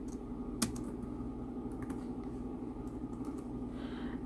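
Quiet, close typing on a computer keyboard, a few scattered key clicks over a low steady background hum.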